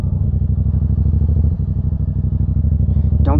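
Yamaha FZ-07 motorcycle engine running while being ridden, a loud close throbbing pulse that varies slightly as it downshifts, with a brief sharp rise in pitch at the end.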